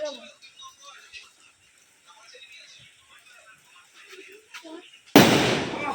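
A firecracker bursts with a sudden loud crack during rainy Diwali celebrations, after quieter moments with faint voices.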